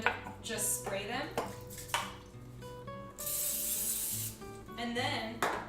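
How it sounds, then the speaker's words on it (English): A cooking spray can mists nonstick coating over mini muffin tins for raspberry tarts, a steady hiss lasting a couple of seconds amid clattering metal pans and kitchen handling noises. "Now you're gonna take your mini muffin tins, look like this, and just spray them"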